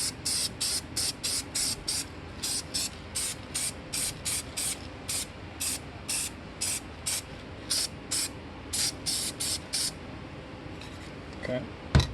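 Repeated short bursts from a spray can laying a heavier coat of paint on a Chevy A-body tachometer part, roughly twenty hissing pulses in steady rhythm, close and fairly loud over a low background hum.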